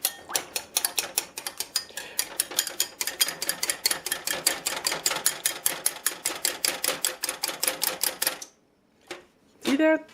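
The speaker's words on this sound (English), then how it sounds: "My 2 egg whites, I'm going to use my Danish whisk and whisk them till they're frothy." A Danish whisk beating two egg whites until frothy, making a fast, steady clatter of light clicks against the bowl for about eight seconds before stopping.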